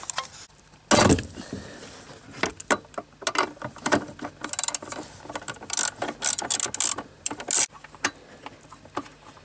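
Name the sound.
wrench removing metal cover on Mazda MX-5 ND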